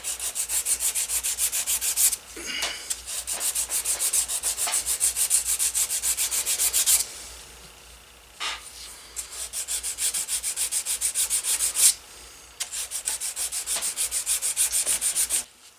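Repeated back-and-forth sanding strokes on a vintage cobbler hammer with 220 grit sandpaper, a close, steady rhythmic scratching that stops briefly a few times before resuming.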